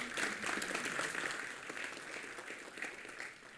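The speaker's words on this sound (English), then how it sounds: "And let's give a round of applause to Vineet." An audience at a university computer science department's 25th anniversary event claps in sustained, moderately distant applause that holds steady and then slowly thins out.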